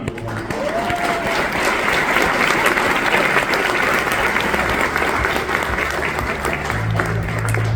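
Audience at Avance's Mother of the Year award ceremony applauding loudly and steadily, a dense wash of clapping hands that fills the room for the whole stretch, with a faint murmur of voices in the crowd.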